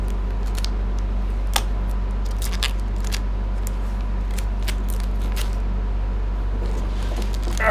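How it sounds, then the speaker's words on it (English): Protective plastic film is peeled off a clear ice maker, giving a series of close, crisp crackles and tearing rasps scattered over a steady low hum. "Peeling off the plastic."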